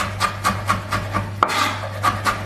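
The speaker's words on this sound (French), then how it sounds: "Ensuite, nous allons donc concasser les tomates." A knife chopping tomatoes on a cutting board with a rocking motion, a series of soft, evenly spaced taps and scrapes over a low steady hum, close by, with one sharper knock midway.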